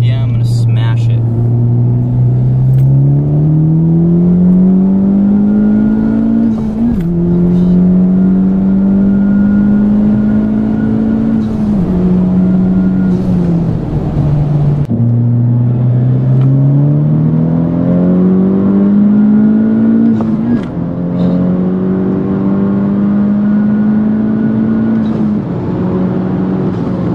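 A Honda Civic Type R under hard acceleration from inside the cabin, the engine droning and climbing in pitch through repeated gear pulls, loud and continuous with road rumble beneath.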